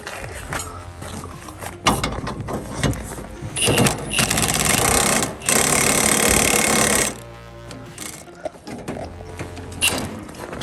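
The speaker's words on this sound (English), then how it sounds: "we're gonna try to use this Harbor Freight spreader we just picked up, muffler spreader" Metal tools clank and ratchet against a Jeep Wrangler JL's exhaust flange as a Harbor Freight muffler spreader is worked in during a Flowmaster exhaust install, with loud irregular bursts of mechanical clatter separated by brief quieter gaps.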